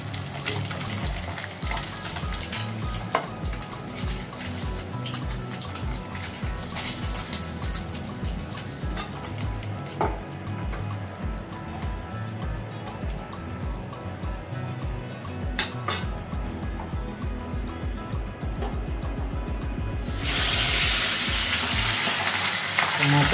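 Katla fish pieces deep fry in hot oil, giving a continuous dense sizzle with bubbling crackle throughout, growing louder and brighter near the end.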